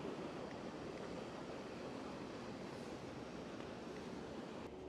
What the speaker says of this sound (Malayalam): ഈ ക്ലിഫിൽ കൂടി നമുക്ക് മുന്നോട്ട് പോകുമ്പോൾ നല്ല കാറ്റ് വീശുന്നുണ്ട്